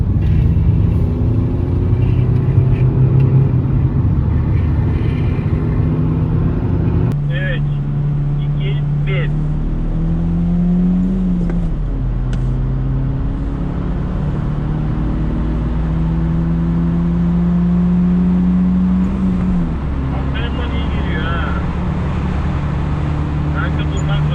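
A 1992 Nissan Laurel Altima races a VW Polo, heard from inside as a steady engine drone that climbs in pitch through several gear changes, with people talking over the noise.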